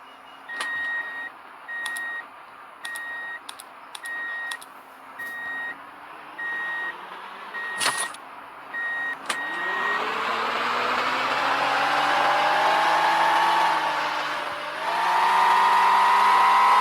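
A bus pulls away: regular reversing-style beeps repeat over a low idle, then the engine revs up into a rising, strengthening whine and roar that grows louder as it drives off.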